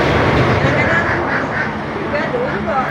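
Ducks quacking in a busy, noisy Malaysian market setting, calls overlapping amid crowd hubbub and background chatter, with people talking throughout.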